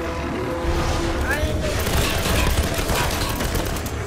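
Rapid enemy gunfire in the 2013 PC Tomb Raider game, a dense sustained fusillade of shots and booms filling the scene, with a voice speaking over the battle.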